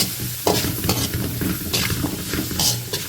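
Shallots and onions sauté in a pan for pork roast, a steady close sizzle broken by repeated scraping strokes of a spoon stirring through the pan, with no talking.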